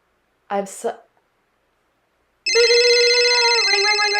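A voice imitates a phone ringing, a sustained tonal warbling ring that follows a short burst of speech and a brief pause, loud and close.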